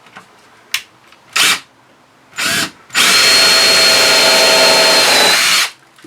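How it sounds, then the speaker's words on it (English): A small power drill whirs in a few short bursts, then runs continuously for several seconds as it bores through wooden boat deck planks beside a beam, close and loud. "what I'm going to do is just drill through right next to the edge of these planks and this beam"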